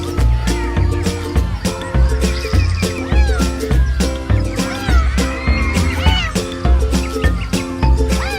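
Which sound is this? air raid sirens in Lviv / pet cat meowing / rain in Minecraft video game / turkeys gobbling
pet cat meowing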